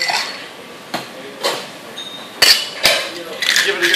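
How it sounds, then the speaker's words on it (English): Ice cubes clatter into a metal cocktail shaker while a gin, cranberry and rose water cocktail is made, giving a few sharp, close clinks and rattles spread over several seconds. "Add ice."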